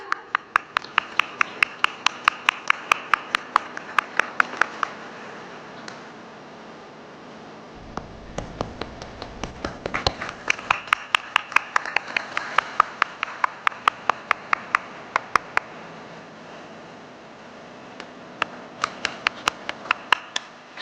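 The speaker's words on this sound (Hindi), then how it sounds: "आप सभी की तालियों के साथ" A formal state event in Raipur with the Chief Minister being welcomed draws bursts of audience applause: sharp rhythmic claps in runs that pause and resume, with faint voices in the background.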